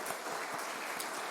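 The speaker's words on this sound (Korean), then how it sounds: "우리 환영하는 박수 하겠습니다." Welcoming applause from a church congregation at the end of a Trinity Sunday service, a brief steady patter of many hands clapping at a moderate distance.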